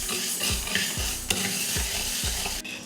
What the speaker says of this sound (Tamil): ஸ்டவ் ஆன் பண்ணி கடாய் வச்சுட்டு 150 கிராம் பச்சை பயிறு இப்போ இதை வறுத்துக்கலாம்.